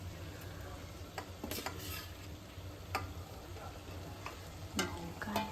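Chicken sizzles quietly in a pan as it is stirred, a low steady fry punctuated by sharp clicks and scrapes of a utensil against the metal.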